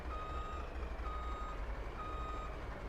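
Truck reversing alarm in the Farming Simulator 25 game: evenly spaced electronic beeps, each about half a second long, steady and moderately loud over a low engine rumble, with no voices.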